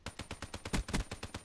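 Rapid automatic gunfire from a competitive shooter video game, a burst of about a dozen evenly spaced shots with a couple of heavier impacts in the middle, crisp and fairly close, no talking.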